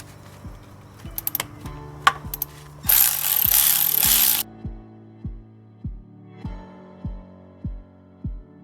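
A hand ratchet working on the oil pan bolts of a BMW 135i (E82) clicks in a steady series of close, sharp metallic pawl ticks, broken by a burst of hissing spray and a few clanks of tools.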